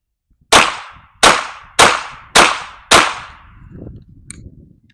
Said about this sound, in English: Another 5 shots. 5 holes.